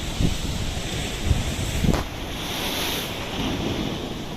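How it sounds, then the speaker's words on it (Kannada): Sea waves surge up and crash onto a rocky shore in a steady, close roar, with strong wind buffeting the microphone and no voices. "ನೀರು ಸಖತ್ತು ಮೇಲ್ ಬಂದು ಬಂದು ಹೊಡಿತಾ ಇದೆ"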